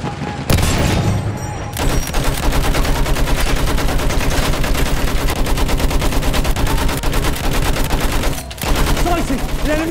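Rapid, rhythmic pom-pom autocannon fire from Battlefield 1, loud and close, pounding steadily for nearly ten seconds with brief pauses near the start and end, game voices faint beneath.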